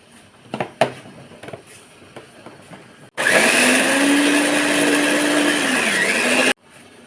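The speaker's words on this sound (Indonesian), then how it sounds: "Jadi tadi pertama kita blender gula sama telurnya." A kitchen blender mixes sugar and eggs for a coconut milk cake batter, a loud steady whirring roar for about three seconds that dips briefly in pitch before cutting off, preceded by soft clattering handling noises.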